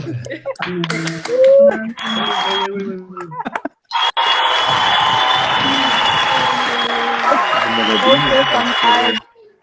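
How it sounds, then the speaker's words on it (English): Loud, sustained applause from an audience at an opening session of a partners' planning meeting, a dense wash of clapping lasting several seconds, preceded by speech and fading abruptly at the end. "big round of applause"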